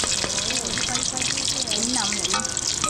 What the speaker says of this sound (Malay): Ini hasil kari pap yang kita goreng.